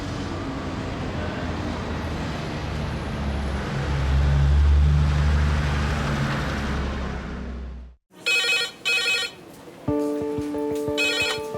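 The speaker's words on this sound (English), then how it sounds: "The red phone. Yeah. A direct line from the ambulance service to the emergency department. When it rings, it signals the imminent arrival of a seriously ill patient." A telephone rings on the direct red line from the ambulance service in a UK hospital emergency department, with loud repeated electronic bursts following a steady roar of traffic or vehicle noise and no talking.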